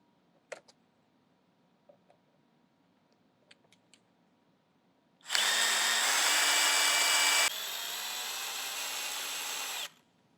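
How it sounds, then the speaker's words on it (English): A power drill backs screws out of a Tennant S5 scrubber brush, one loud whirring run of a few seconds that shifts pitch partway through, following a few faint ticks and taps in a quiet room. "Now find the other 3 and remove those screws too."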